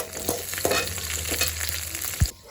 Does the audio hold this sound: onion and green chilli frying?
yes